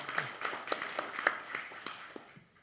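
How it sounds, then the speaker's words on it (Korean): Sparse, fairly faint clapping from an audience at a ceremony marking the 104th anniversary of the Korean Declaration of Independence, as a handful of distinct claps taper off over a couple of seconds. "다시 한번 우리 이종찬 원장님 힘찬 박수 좀 부탁드리겠습니다"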